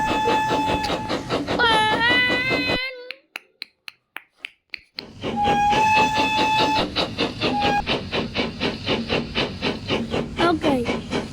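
A toy train made of Labo bricks runs along its track, giving a rapid rhythmic clicking with hissing tones; a brief gap of sharp ticks and a near, continuous mechanical whir follow, with no talking.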